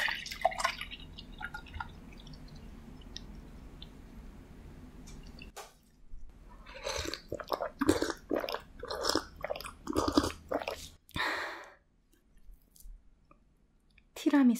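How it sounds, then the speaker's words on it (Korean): Mini donuts from Old Ferry Donut, including tiramisu, raspberry, coconut, crème brûlée, choco monkey and peanut butter, are bitten and chewed up close, giving soft squishy, sticky mouth sounds in bursts after an opening stretch of quiet talk. "미니 도넛들이랑 같이 먹어볼게요"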